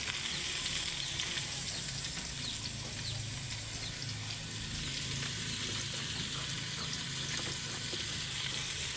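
Tomatoes sizzling as they fry in a pan, a steady moderate crackle and hiss running throughout with faint stirring ticks, no voices over it.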